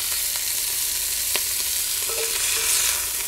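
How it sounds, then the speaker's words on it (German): Venison goulash meat searing in a Dutch oven, a steady close hiss and sizzle with a few light scrapes of stirring, no voices. "und braten natürlich den Rest an"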